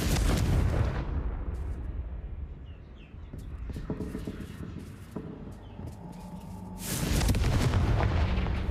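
Confringo blasting spell explosions in a Harry Potter video game, a loud booming burst at the start and another at the end, with quieter rumbling game ambience and small effects between them.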